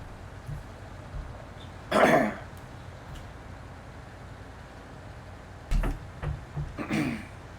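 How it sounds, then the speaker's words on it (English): A man lets out one loud, harsh cough, then after a pause a cluster of coughs and throat clearing, close to the microphone, over a quiet background hiss. "That was a loud boy cough"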